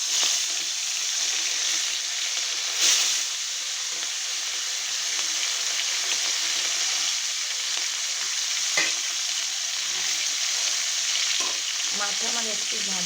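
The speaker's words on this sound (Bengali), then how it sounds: "এখন মাথাটা ভেজে নেব।" A hilsa fish head fries in hot oil in a wok with a constant dense sizzle and crackle. Now and then a faint clink of a spatula stirs it.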